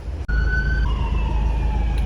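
An emergency siren wails nearby, its tone sliding down steadily over a constant rumble of traffic after a brief knock.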